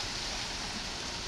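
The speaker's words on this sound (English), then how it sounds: "Heavy rain, as you can see." Heavy rain from Hurricane Eta pours down in Fort Myers, Florida, a steady dense hiss of rainfall with no breaks, heard alone without any voices.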